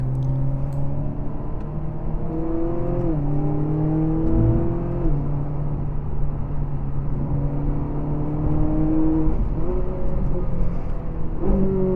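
A Ferrari 458 on a race track at MSR, its engine note rising and falling through gears with sharp shifts and a downshift, loud and continuous without talk.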